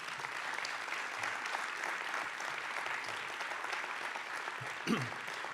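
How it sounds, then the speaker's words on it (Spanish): A theatre audience at a university lecture on the Complutense's stage history gives a steady, even round of applause, moderately faint and continuous throughout, with no voices over it. "les voy a rogar otro aplauso para él antes de empezar"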